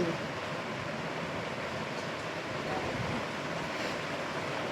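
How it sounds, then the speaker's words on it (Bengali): Waves splash and spray water steadily against a boat at sea, blending into a constant broadband wash with strong wind buffeting the microphone throughout. "এই দাদা দেখো কত ঝাপটা আসছে"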